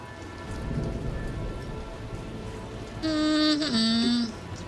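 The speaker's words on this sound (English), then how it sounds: "Why do we always have to work in the rain?" Steady rain falls throughout a scene in the game Warhammer 40k: Rogue Trader, a dense hiss with low rumbling beneath, joined near the end by a louder tonal game sound.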